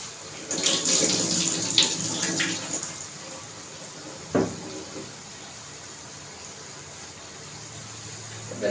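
Tap water runs into a kitchen sink while boiled potato is strained for a quick breakfast poha. The water pours loudly for the first two seconds, then fades, with a single knock midway and quiet after.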